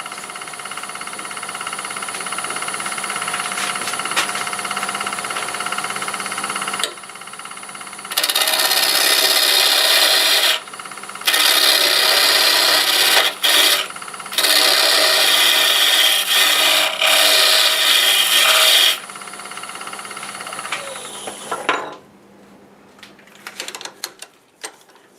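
Lathe-turned wooden coffee scoop blank at 1,000 RPM, with a tool cutting a tenon on one end: loud, steady scraping bursts in several runs separated by short pauses, over a constant motor hum that fades near the end.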